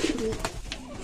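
Pigeons in a loft give soft, low cooing calls, close by, with a brief murmur of movement between coos.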